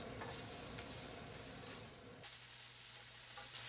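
Onions sizzle and crackle as they fry in oil in a pan, with steady stirring that scrapes close up. The frying grows quieter partway through while a low hum carries on underneath.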